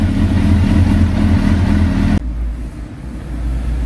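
Suzuki GSX-R1000 sport motorcycle engine idling during warm-up for a coolant flush, a loud steady low rumble close by that drops suddenly partway through, then continues more quietly.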